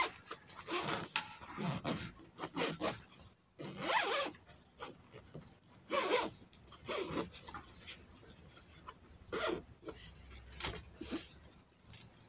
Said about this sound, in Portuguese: Agora vamos fechar nosso zíper aqui.